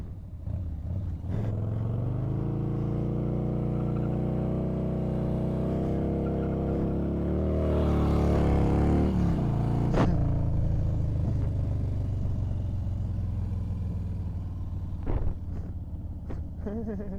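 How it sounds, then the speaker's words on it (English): A motorcycle engine revs steadily and loudly during a wheelie attempt, rising to a peak near the middle before settling back to a rumbling idle, heard close with wind buffeting the microphone. "he's gonna try to wheelie over this."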